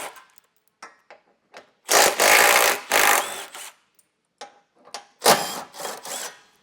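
13mm bolts being removed from the bumper beam of a 2019 Audi Q3, with bursts of a power tool spinning, short ratcheting rattles and metallic clicks between them, close and loud.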